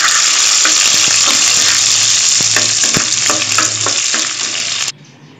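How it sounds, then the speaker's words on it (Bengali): Onion, a few dried chillies and chopped garlic hit hot oil, a loud, close, crackling sizzle with stirring knocks that fades slightly before cutting off abruptly near the end. "এখন আমি দিয়ে দিচ্ছি পেঁয়াজ শুকনো মরিচ কয়েকটা আর হচ্ছে রসুন কুচি"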